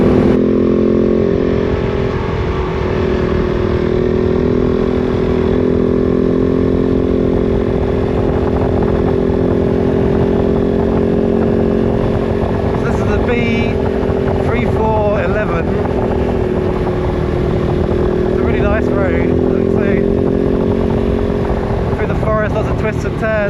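A KOVE 450 Rally motorcycle engine runs steadily at low RPM with a loud, slightly juddering drone and wind rushing past throughout, while a rider talks faintly at times.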